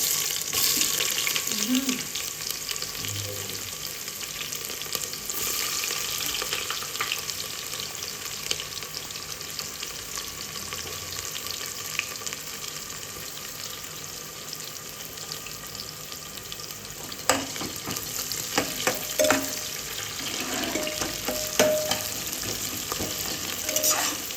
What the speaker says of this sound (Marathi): मी त्याच्यामध्ये पहिले कांदा टाकून घेते